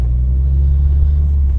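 A car rushes through a parking lot, a loud, steady low rumble of engine and tyres sounding close by for a brief moment without speech.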